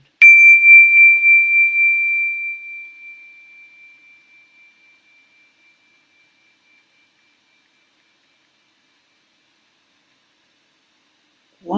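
A single meditation bell struck once, a clear pure ring that sustains and slowly fades to silence over several seconds, heard alone in a quiet room.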